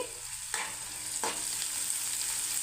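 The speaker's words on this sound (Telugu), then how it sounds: "ఉల్లిపాయ వేసాను కొంచెం వేగనిద్దాం" Onions frying with ginger garlic paste in a pan for a mixed vegetable curry, giving a continuous close sizzle broken by two sharp stirring scrapes, with no voices.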